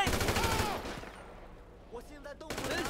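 Automatic assault rifle fire in the video game GTA 5, a rapid burst of shots up front, then a quieter gap with scattered sounds before firing resumes at the end.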